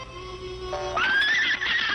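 A horse lets out a loud, close whinny that rises and wavers before fading, with no talk.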